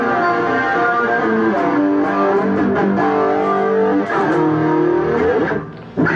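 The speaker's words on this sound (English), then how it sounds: "or distortion with chorus." Distorted electric guitar through a Boss GT-1 multi-effects unit with a swirling chorus shimmer, chords ringing continuously and loudly before cutting off at the end.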